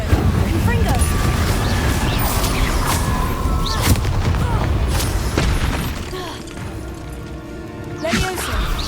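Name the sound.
Confringo and Incendio spell blasts in video game Hogwarts Legacy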